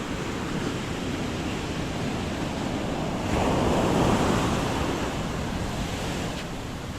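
Sea waves surging onto the shore near a breakwater, a loud, continuous roar of surf that swells in the middle, mixed with wind buffeting the microphone.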